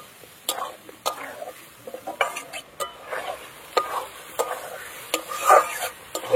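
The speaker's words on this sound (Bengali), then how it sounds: "সব কিছু দিয়ে এবার আলুটাকে ভালো করে একদম কষিয়ে নিতে হবে" Potatoes with spices, ginger, dried chilli paste, coriander powder and turmeric being stirred and fried in a pan: repeated close scraping strokes at an irregular rhythm over a soft, steady sizzle.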